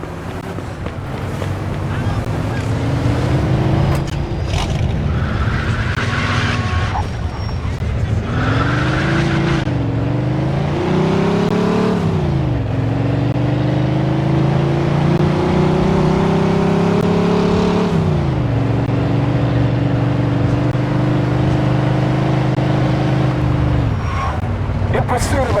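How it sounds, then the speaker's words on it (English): Car speeding in the Mafia 2 video game, a loud, steady engine roar that rises and falls in pitch with gear changes and revs, mixed with rushing wind noise. "Pursuit of a speeding vehicle."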